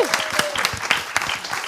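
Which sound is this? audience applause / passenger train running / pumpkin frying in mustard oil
audience applause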